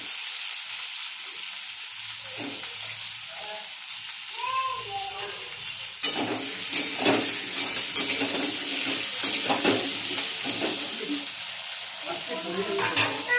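Potatoes frying in oil in a pan, a steady broadband sizzle throughout that grows louder and busier about halfway in, with occasional utensil clinks and stirring scrapes and a faint voice early on.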